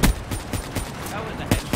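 Quick rhythmic bursts of automatic gunfire from Call of Duty Black Ops 3, several sharp shots in under two seconds, close and loud with a voice faintly underneath.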